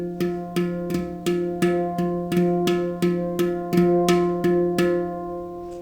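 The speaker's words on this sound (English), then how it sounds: "So the flamadiddle will sound something like this." Flamadiddle drum rudiment played as rapid, even strokes with grace-note flams, about a dozen sharp hits in steady rhythm over a sustained pitched ring, close and clear.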